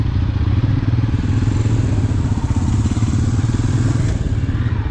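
Vintage motorcycles set off together on a Republic Day group ride, their engines thumping and clattering loudly at close range in a steady, unbroken drone.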